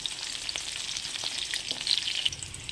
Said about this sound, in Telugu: మంచి నూనె జీలకర్ర దాల్చిన చెక్క పచ్చిమిర్చి ఆనియన్ అండ్ కాజు వీటిని వేగనివ్వాలి